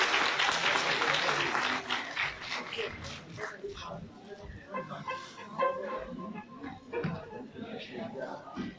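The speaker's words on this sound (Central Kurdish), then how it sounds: "هەمومان بە یەک چەپڵەی تایبەت خواحافیزی لەو خاتونە شیرینە دەکەین" An audience at a women's day event for blind people in Sulaymaniyah claps in farewell, dense applause at first that thins into scattered clapping and crowd murmur.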